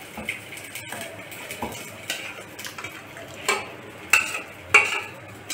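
Rice pudding being scooped from a pot into a bowl, a series of close metal scrapes and clinks of a spoon against cookware over a faint background, with sharper knocks toward the end.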